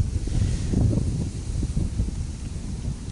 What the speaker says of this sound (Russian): Блин, ветер страшный.